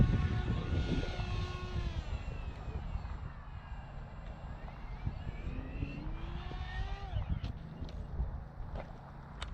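A small electric X-29 model airplane on its maiden flight whines overhead, its motor pitch rising and falling as it passes through the air with a steady broadband hum.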